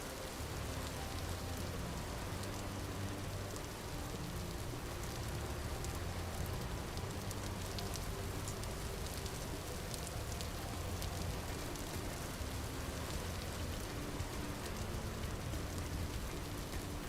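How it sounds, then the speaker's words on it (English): Steady, heavy rain pattering on a surface in the game Vintage Story, dense and continuous throughout with no voices. "The rain's very comforting, but it's also very loud."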